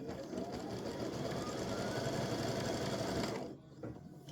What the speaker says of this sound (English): we're going to finish stitching the placement stitch for this part of the ribbon.